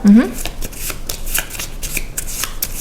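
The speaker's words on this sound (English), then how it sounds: "So these blueprints now get shuffled." A deck of blueprint cards is shuffled during a tabletop game of Unfair, a continuous close riffling patter of card edges with a brief voice at the start.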